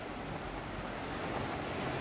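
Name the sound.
river flowing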